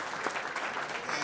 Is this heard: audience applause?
yes